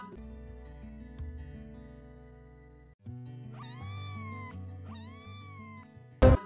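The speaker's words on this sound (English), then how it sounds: "C for cat." A cat gives two clear, drawn-out meows in quick succession over a sustained musical backing from a children's phonics song.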